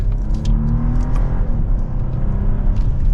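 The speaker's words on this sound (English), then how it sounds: "as we drop it to a second gear" A 2023 BMW 740i downshifting to second gear on the road, a steady loud engine hum and rumble from inside the cabin with shifting tones and no speech.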